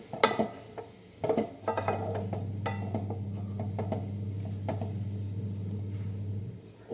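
Tomato curry being stirred in a pan, with scraping and clinking strokes over a steady low simmering hum, close and fairly quiet, no talk.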